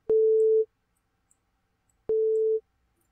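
Two steady pure sine tones from the LMMS TripleOscillator software synthesizer, each about half a second long, separated by a roughly one-and-a-half-second silence, clean and even.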